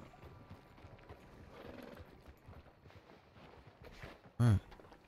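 Horse hooves clop steadily at a walking pace in the video game Red Dead Redemption 2, fairly faint, ending with a loud, close whinny.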